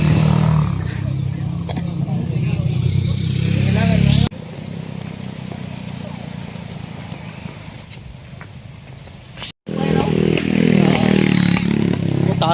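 A motorcycle engine runs close by on a road near Tumalog Falls in Oslob, a steady rumbling drone that drops in level partway through and returns, while people talk over it.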